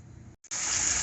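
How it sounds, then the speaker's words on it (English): Faucet running wide open, beginning with a weak trickle, then a brief gap before a sudden loud, steady gushing rush of water. "there's with the faucet wide open"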